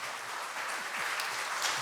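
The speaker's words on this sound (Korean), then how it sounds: "박수 해주세요." A church congregation applauds during a Sunday worship service, a short even burst of many hands clapping with faint low murmurs beneath.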